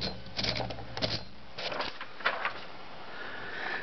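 A 1935 Corona Standard typewriter typing, irregular clacks of keys striking close by in short bursts, with a soft mechanical rattle between strokes.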